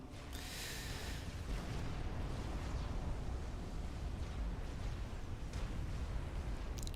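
A battleship blowing up in the real-time strategy game Supreme Commander: Forged Alliance, heard as a steady, dense rumble of explosions and distant battle noise with a brighter crackling burst near the start.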